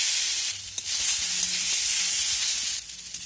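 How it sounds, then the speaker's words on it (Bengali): Raw tomatoes sizzle steadily in a pan over a medium gas flame, a continuous close frying hiss broken by soft scraping as they are stirred, with no talking. "টমেটো দিয়ে এখন মিনিট দিয়ে এইভাবে নাড়াচাড়া করে আমি টমেটোগুলো ভেজে নেব"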